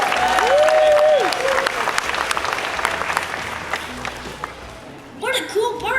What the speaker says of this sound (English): how about a round of applause for our volunteer adventurers?